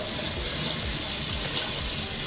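A sink tap runs steadily with a continuous, fairly loud rush of water and no voices over it.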